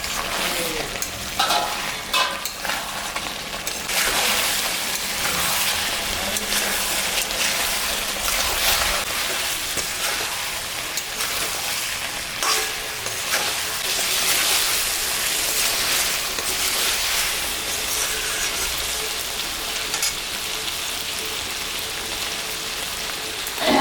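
Potatoes and garlic fry with chicken in a hot pan, giving a loud, dense, rain-like sizzle that runs steadily throughout, with stirring scrapes and no voices.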